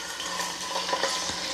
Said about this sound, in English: So my oil's hot. We've got a little bit of a sizzle going with some water. I'm gonna put my chicken thighs in.